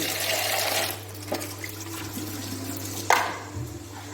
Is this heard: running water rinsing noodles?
yes